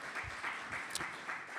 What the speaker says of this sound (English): But yes, give them a round of applause.